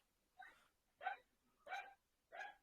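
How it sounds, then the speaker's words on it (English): Spaniel dogs bark four times in an even rhythm, each bark short and clear but faint and distant, with near silence between them. "The dogs, the spaniels are the dogs."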